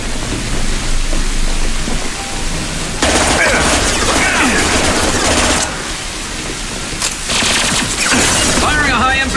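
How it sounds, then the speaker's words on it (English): Heavy weapon fire from Mass Effect 2 Legendary Edition during the Lair of the Shadow Broker mission: two loud, dense bursts of rapid blasts over constant background game noise, with a voice present. "Firing a high-impact shot!"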